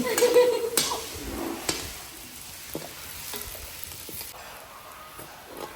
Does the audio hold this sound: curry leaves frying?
yes